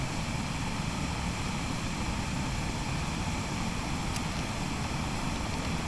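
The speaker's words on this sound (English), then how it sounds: "Got the jet boil going." A continuous, steady roar of a Jetboil camping gas stove burner runs throughout, loud and close, with no pauses.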